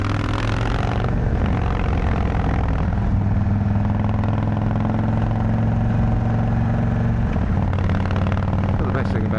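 An Indian Chief Dark Horse motorcycle engine idles steadily with a low rumbling drone, loud and close, while someone talks over it throughout.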